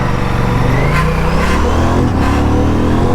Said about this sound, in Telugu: సో కోల్ స్టార్ట్ అవ్వనిద్దాం బండిని.